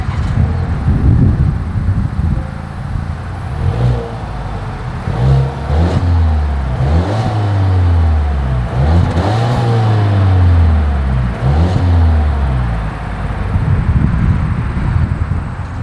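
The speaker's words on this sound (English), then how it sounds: "As always, here is that exhaust clip." A 2022 Volvo XC40 SUV revving through its dual exhaust, loud and close, with several rising and falling throttle blips over a steady idle and wind buffeting the microphone.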